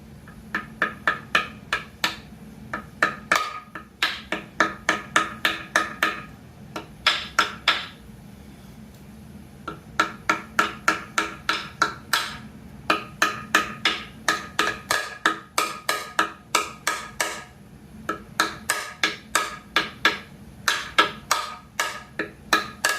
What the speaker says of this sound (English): Now, you get a hammer, get this seal put in